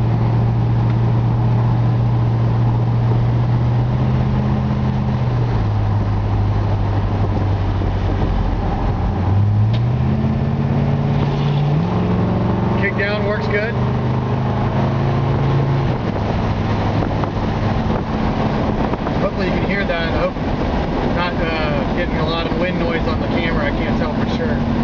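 A 1963.5 Ford Galaxie 500 drives through turns and stop-and-go traffic, its engine a steady low drone that rises and shifts in pitch as it accelerates, heard from inside under continuous wind and road noise while someone talks.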